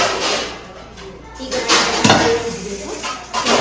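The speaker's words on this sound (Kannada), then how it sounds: "ನೋಡಿ ಒಂದೊಂದೇ ಪಾತ್ರೆ ಹಾಕ್ತಾ ಇದ್ದಾರೆ" Large cooking pots and dishes being washed at a family house, with metallic clanks and scraping of vessels set down one at a time, close and fairly loud, while people talk.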